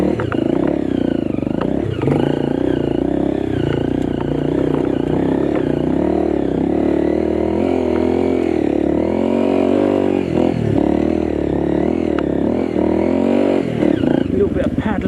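A Honda CRF250M motorcycle being ridden, its engine droning loud and close with shifting revs, clattering and scraping bumps over rough ground, and a voice talking over it.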